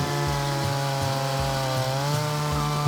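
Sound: restored 1984 Ural chainsaw cutting thick fallen hornbeam

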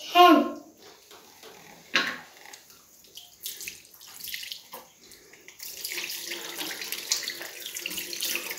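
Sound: water running from tap while washing

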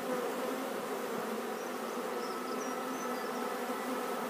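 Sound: bees buzzing while beekeeper moves them in hive

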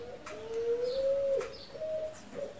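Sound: strange bird singing

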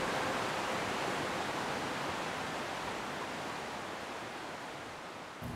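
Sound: Wolf Creek flowing through Grass Valley

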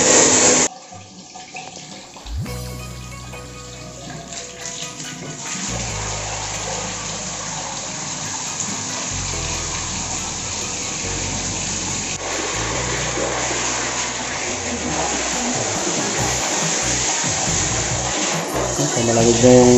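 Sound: water flushing through air-conditioner FCU drain pipe

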